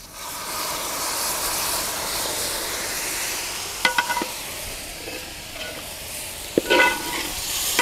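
Peas and chopped beans boil in water in a pan, cooking filling for veg samosas: a steady bubbling hiss runs throughout, broken near the middle and end by a few sharp clinks and scrapes of stirring.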